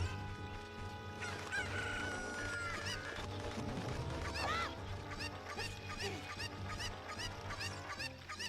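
Cucco chickens in Ocarina of Time on GameCube cluck and crow repeatedly, several rooster calls rising over layered game music and ambient effects, loud and continuous with no talk.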